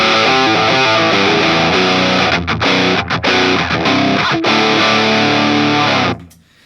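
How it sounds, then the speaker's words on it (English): A reissue ProCo Rat distortion pedal drives a Les Paul guitar, producing loud, thick distorted chords and riffs that ring steadily for about six seconds with a few brief choppy gaps before cutting off. "Now the reissue."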